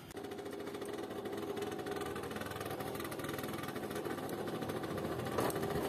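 A second-hand TVS motorcycle engine runs while being ridden, producing a faint, steady, buzzing mechanical hum with rapid even pulsing and no pauses.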